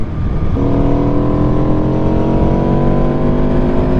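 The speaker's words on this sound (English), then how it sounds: "So let's do that again. We'll go from, let's say, 70 to 90" A 2018 Aprilia RSV4RR sport bike pulling hard in sixth gear, its loud, close engine roar climbing steadily in pitch as it accelerates throughout.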